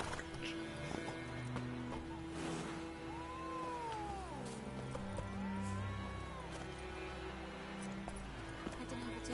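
A horse in the Warzone video game trots with steady clip-clop hoofbeats and whinnies twice in drawn-out neighs, under game background noise and occasional voices.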